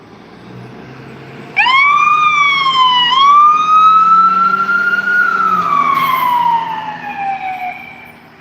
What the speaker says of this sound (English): got an ambulance pulling out of the